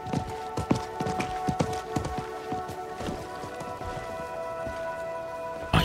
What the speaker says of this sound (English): I think that was the merchant's horse